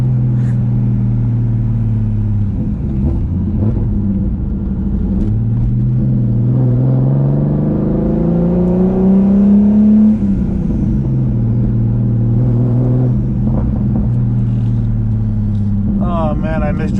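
A turbocharged VR6 engine in a B5 Audi A4 drones and rises in pitch as it accelerates, then eases back, heard from inside the cabin at close range.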